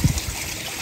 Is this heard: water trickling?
yes